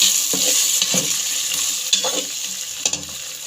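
A blended paste of ginger, garlic and green chili hits a hot pan for kadhi: a loud, close sizzle with scraping stir strokes and a few sharp clinks, and no voice.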